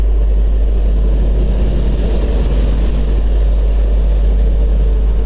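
Steady, dense night-time road traffic of trucks, motorbikes and private cars rolls past as a continuous low rumble and roar with no talking.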